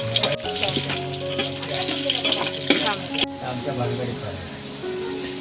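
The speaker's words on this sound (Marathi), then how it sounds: "बघा मोहरी लसूण आणि कढीपत्ता टाकलेला आहे." Mustard seeds, garlic and curry leaves sizzling in hot oil in a home kitchen, a continuous crackling fry heard up close with other kitchen sounds over it.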